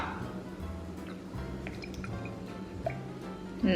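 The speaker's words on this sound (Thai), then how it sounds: "แล้วปอจะใส่น้ำปลานะคะ" Fish sauce is ladled into a dish, making a quiet, close trickle and drips over a low background, with a small clink at the end.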